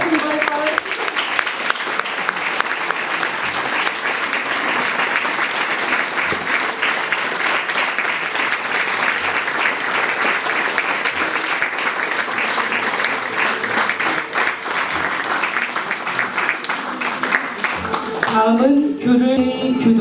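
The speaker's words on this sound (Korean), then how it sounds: "큰 박수 부탁드립니다." Sustained audience applause at a traditional Korean royal costume show, a dense steady wash of many hands clapping for about twenty seconds, with a voice starting to speak near the end.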